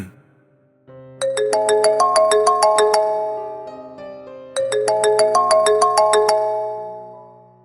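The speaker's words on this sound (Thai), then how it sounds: "โทรศัพท์ของผมก็ดังขึ้น" A mobile phone ringtone plays loudly and alone: a bright, bell-like melodic phrase sounds twice in a row, with a short pause between the two repeats.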